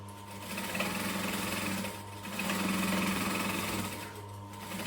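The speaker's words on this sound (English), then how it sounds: "I'm going to back stitch because we always back stitch, and then I'm just going to sew the whole way along there" A sewing machine runs close up as it stitches along a base stabilizer, starting with a backstitch: a steady mechanical whir in two bursts with a short pause between them.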